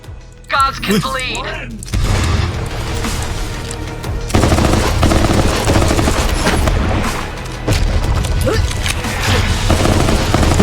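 Rapid gunfire from a Borderlands 3 firefight rattles in dense, loud bursts, with crashes and booms mixed in, under excited talk from a player.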